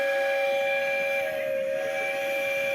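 Train whistle sound effect played during a live NCAA wrestling championships watch party: one sustained, steady multi-toned whistle held for the whole stretch, moderately quiet, with no voices over it.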